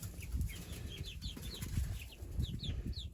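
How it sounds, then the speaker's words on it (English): Roosters fighting in a farmyard among chickens, with bursts of wing flapping, scuffling and high clucks and squawks repeating close by, without talk. "that looks like a rooster fight"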